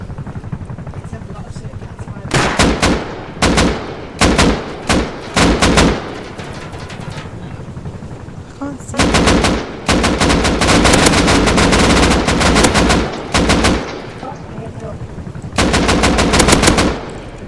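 An attack helicopter in the survival game Rust fires on players, producing loud, close bursts of rapid fire in clustered volleys with short gaps, over a constant background rumble.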